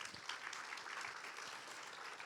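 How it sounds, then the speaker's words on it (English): Audience applause at a book launch, steady dense clapping filling the short stretch at moderate level with no pauses. "A big round of applause to them."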